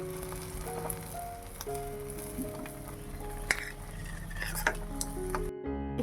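Egg paratha frying in oil in a frying pan, a steady close crackle and sizzle with a low hum underneath and a few light clinks of a utensil against the pan, ending abruptly.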